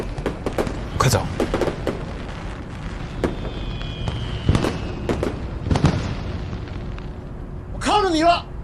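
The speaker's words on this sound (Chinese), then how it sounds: "谁让他放烟花的？" Fireworks go off in a series of sharp pops and bangs, some near and loud, others softer, with crackling bursts scattered throughout and a short high shout near the end.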